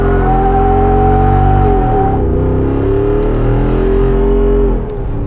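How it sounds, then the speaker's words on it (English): A Jeep Wrangler 392 two-wheel-drive is floored from a standstill with its tires spinning. The engine roars loud and close, and its pitch climbs and wavers as the revs rise, then eases slightly at the end. "it spins the tires pretty darn easily"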